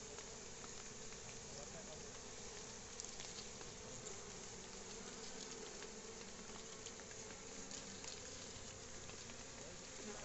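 A steady, dense insect buzz fills the air throughout, a constant drone of bees during hive harvesting in a Dominican Republic field, with no talking.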